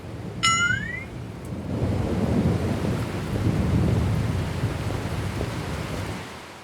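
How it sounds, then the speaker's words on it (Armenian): A thunderstorm at sea, with steady heavy rain and rolling thunder rumbling under the downpour throughout; a brief high whistling sweep rises near the start. "Լսեք, այսպիսի փոթորիկ ես դեռ չեմ տեսել։"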